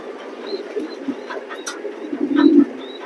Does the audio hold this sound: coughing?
no